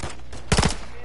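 A short burst of gunfire in Modern Warfare III, three or four rapid, loud, close shots fired in quick succession within a fraction of a second, preceded by faint background game sound.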